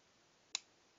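A single faint, crisp click from a Walther P22 .22 pistol trigger as it breaks and resets, close and isolated against quiet room tone.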